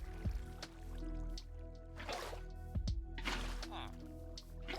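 Water placed from a bucket in Minecraft with the Create mod: a few short, soft liquid splashes and drips set against quiet background game sounds.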